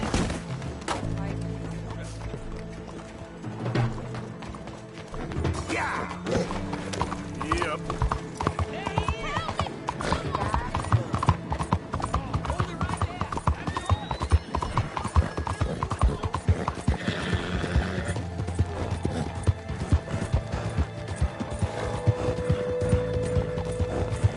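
Galloping horse hooves clatter in a steady, rapid clip-clop rhythm throughout, with occasional whinnies, in the video game Red Dead Redemption 2; game music and voices talk over it.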